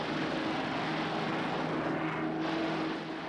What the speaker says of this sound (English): Their planes constantly attack the Japanese supply lines, interrupting the flow.